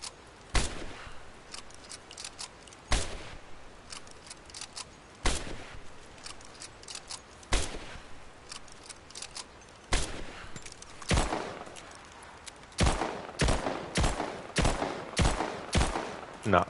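Single gunshots in Rise of the Tomb Raider ring out sharp and loud against a quiet backdrop, spaced a couple of seconds apart at first, then quickening into a faster string of shots near the end.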